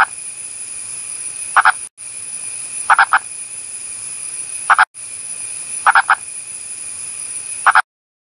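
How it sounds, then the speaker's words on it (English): Purple frog, also called the pig-nosed frog, giving clucking, chicken-like calls: short bursts of two or three notes repeating every second or so over a faint steady insect whine, fairly close and alone. "a purple frog, also known as the pig-nosed frog, making sounds just like a chicken"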